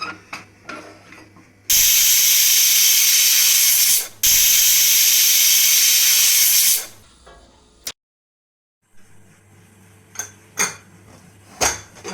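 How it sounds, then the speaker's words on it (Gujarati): A pressure cooker holding brinjal and potato curry lets out two loud, sustained hissing whistles of steam, each lasting a couple of seconds, separated by a brief gap. Quieter rattling and clinking of the cooker follow. "હવે આપણે કુકરનું ઢાંકણું બંધ કરીને 2 સીટી મારશું।"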